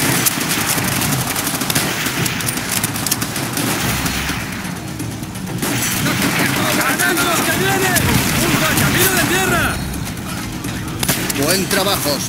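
Rapid bursts of automatic gunfire and scattered shots in Call of Duty: World at War crackle continuously over shouted Spanish voices and a dense battle din.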